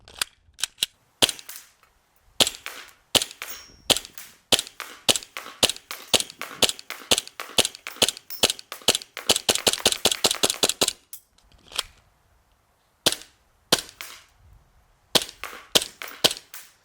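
Airsoft pistol fired with a CO2 magazine, a string of sharp, loud, poppy shots, some isolated and others in a rapid burst near the middle, with brief pauses between groups.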